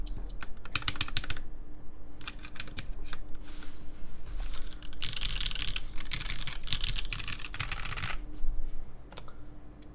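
Typing on a Smith and Rune Iron165 R2 mechanical keyboard with GMK keycaps, a steady run of close, crisp key clacks in bursts, with a faint low hum beneath and no talking.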